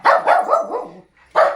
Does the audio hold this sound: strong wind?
no